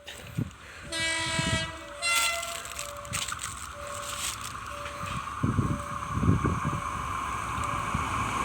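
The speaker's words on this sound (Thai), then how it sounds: "ขบวนรถพิเศษสินค้าขบวนที่ 2 112ต้นทางจากสถานีด่านพรมแดนบ้านคลองลึกชุมทางคลอง 19 ชุมทางแก่งคอยนะครับ กำลังจะวิ่งผ่าน สถานีรถไฟประจันตคาม" Special freight train 2112 from Ban Khlong Luek border station runs through Prachantakham railway station in Thailand, its horn sounding repeatedly over a rising, rumbling roll of wagons passing close by.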